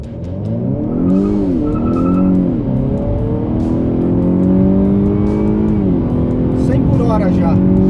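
Honda Accord Touring at full throttle in sport mode with manual shifting and stability and traction control switched off, its engine roaring loud and close, climbing in pitch through several gears with brief drops at each shift.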